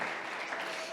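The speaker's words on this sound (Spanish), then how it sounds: "Dele un aplauso fuerte al Señor en esta tarde." A church congregation claps in praise during a sermon, a dense, steady burst of applause heard alone throughout.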